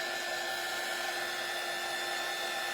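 A heat gun drying craft paint on a door hanger kit, with a steady, loud blowing whir held at an even level throughout, close up and with no talking.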